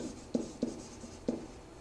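Pen strokes on a sheet of paper while working a triangle-area problem in a maths lesson: three short, faint scratching bursts spaced unevenly in a quiet room, with no talking.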